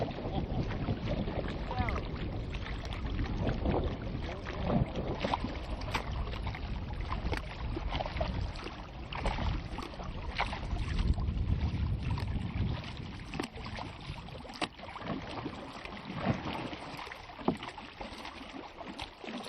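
Small wooden dugout canoes paddled on open water during the Darwin to Ambon race, with steady wind and water wash, a continuous rushing texture and occasional splashes.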